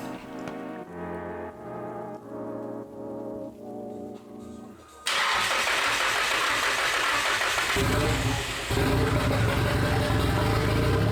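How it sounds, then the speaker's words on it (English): A Nissan S15's engine runs steadily at idle in a garage, a moderate even drone, before a louder, broadband mechanical roar takes over and continues to the end, with no one speaking. "So now that the engine is running and running really well"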